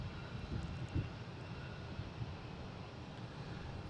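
A Delta airliner at Boston Logan International Airport gives off a steady, distant engine roar, fairly faint and low, with a few soft swells, and no one talks over it.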